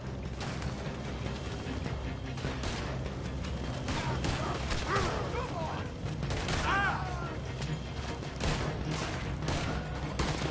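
Gunfire from a Wild West shootout in the video game Red Dead Redemption 2: dense, overlapping shots and a fusillade of reports over a steady loud din, with a voice talking in the mix.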